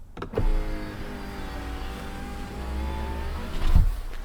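An Audi Q5's electric power window motor runs up close, a loud, steady mechanical whine and hum lasting a few seconds, with a thump at the start and another near the end.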